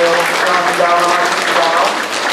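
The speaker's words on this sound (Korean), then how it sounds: "박수 환영합니다." A church congregation claps to welcome parents standing during a service. The applause is steady and fairly loud, mixed with voices and some tonal sound.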